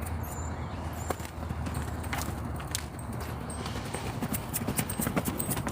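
A horse's hooves thud in an irregular rhythm during a training session as the mare tries to break into a canter, muffled against soft ground.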